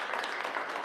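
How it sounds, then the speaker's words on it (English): Audience applause at a Baltimore civic event announcing the AFRAM festival lineup, a dense steady wash of clapping across the whole short stretch, fairly loud and without pauses. "Let's give him a big round of applause today."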